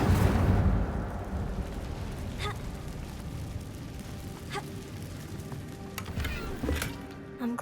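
An Incendio fire spell goes off in Hogwarts Legacy, a loud whooshing roar at the start that fades into a low, crackling rumble with scattered small pops and clicks.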